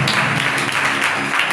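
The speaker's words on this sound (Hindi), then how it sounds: "उस खुदा के लिए जोरदार तालियां" A church congregation at a Hindi-language sermon bursts into loud, sustained applause, a thick wash of many hands clapping together throughout the short moment.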